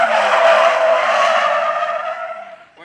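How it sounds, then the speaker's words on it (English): A drifting car slides through a cone course with a loud, sustained tire skid and squeal that runs nearly three seconds close by, then fades out at the end. "We're going to work on controlling it through these cones and carrying the drift through what was the stop box now."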